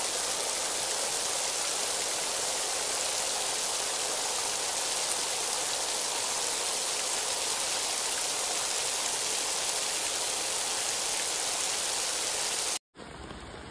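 Heavy rainstorm in Dongguan, Guangdong pours down as a dense, unbroken hiss of rain hitting surfaces, loud and steady throughout before cutting off abruptly near the end.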